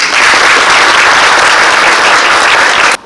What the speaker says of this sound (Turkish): Onları bir alkışlayalım.